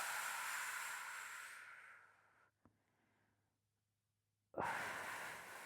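A slow, deep breath during a relaxation stretch: a long airy exhale fades over about two seconds, followed by quiet, then a sharp full inhale rushes in close to the mic.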